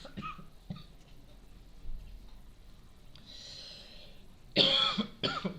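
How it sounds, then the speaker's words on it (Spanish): A few harsh coughs burst out near the end, loud and close, after a stretch of quiet breathing and faint room noise. "Estoy con tos"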